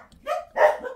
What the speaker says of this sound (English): Uh-oh, barky dogs.